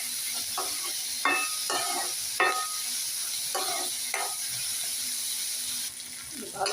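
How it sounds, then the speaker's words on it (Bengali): Garlic, onion and green chillies fry in mustard oil with a steady sizzle, broken by repeated sharp scraping strokes of a spoon stirring the pan, close and fairly loud. "এগুলো একটু ভেজে নিব ভালো করে"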